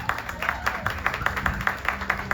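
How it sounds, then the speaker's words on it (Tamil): An audience claps in a hall, a steady burst of rhythmic applause at moderate loudness. "இந்த தமிழனுக்கு ஒரு கைத்தட்டு கொடுங்க"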